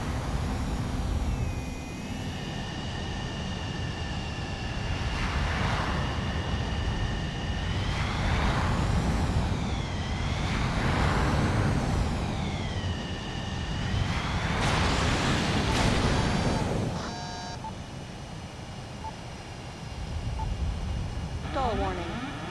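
A CFA-44 Nosferatu jet in flight in the video game Ace Combat 7, a continuous engine roar with rising and falling whining tones and swooshing swells, steady and loud with a brief tonal warning chirp near the end.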